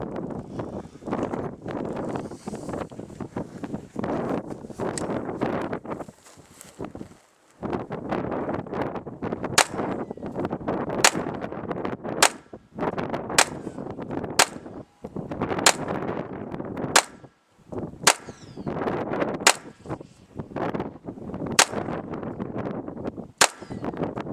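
A GSG 1911 .22 pistol fired at an outdoor range: a string of about eleven sharp, close cracks in a steady, evenly spaced rhythm, over a background of wind rumble.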